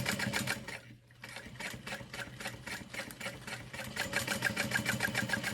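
Sewing machine top stitching a bowler bag, running in a fast steady rhythmic whir with a brief pause near the start, moderately quiet and close, with no talking.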